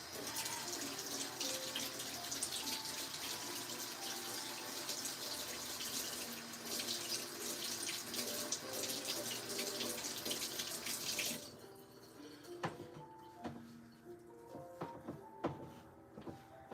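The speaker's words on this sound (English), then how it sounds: "gotta wash my hands after that" A kitchen sink tap runs steadily for hands washing, a close, continuous rush of water for about eleven seconds, then cuts off, leaving scattered drips and light clatter around the basin.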